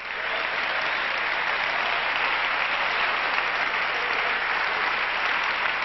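A church congregation claps their hands together during a Pentecostal worship service, a dense, steady wall of loud applause that continues throughout without letup.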